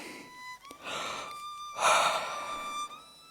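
A person yawns during a yoga breathing exercise, drawing in a long breath and then letting out a swelling, drawn-out exhale, heard alone and close.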